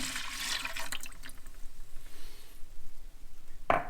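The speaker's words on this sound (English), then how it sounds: "First thing that I like to do is start with the gin, and is to pour 2 cups in the bottom first." Gin is poured, about two cups, into the bottom of a container for a smoked salmon brine: a short, close liquid splash and trickle, fairly faint, ending with a brief louder slosh.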